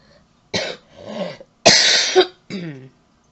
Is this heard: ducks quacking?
no